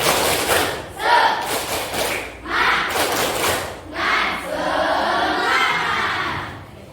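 A school class performs the 'tepuk semangat' spirit clap, bursts of rhythmic clapping and thumping alternating with loud group chanting and shouts from many children close by.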